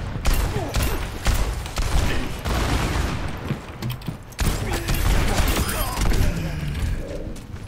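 Sustained automatic turret gunfire in a multiplayer shooter game, dense and loud throughout with thuds and mechanical clatter mixed in, while background voices murmur.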